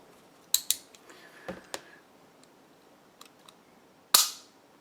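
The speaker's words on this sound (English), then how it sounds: "Here's the reset. Just pops you right back out and then right into the next shot." Sharp metallic clicks from a Rock Island 1911 pistol's trigger and reset, a few quick snaps early on, lighter ticks, then one louder crisp click near the end, close and quiet otherwise.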